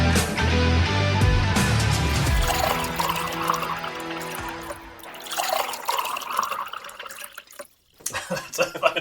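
A generous drink poured into a glass, a loud close splashing and trickling stream that gradually thins out, with a brief pause and some clinking and movement near the end.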